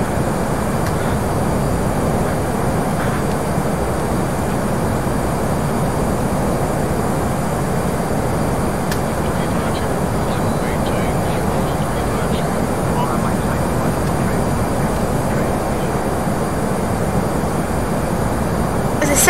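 An airplane cruises straight and level in the FSX flight simulator, producing a continuous, even engine and airflow drone that stays constant and fairly loud throughout with no breaks.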